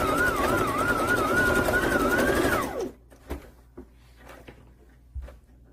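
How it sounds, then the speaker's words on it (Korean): A sewing machine runs steadily while stitching a facing onto a rayon sleeveless dress, a continuous whirring motor hum for about three seconds that winds down to a stop, followed by a few faint fabric handling knocks. "자, 그럼 박음질 해보도록 하겠습니다"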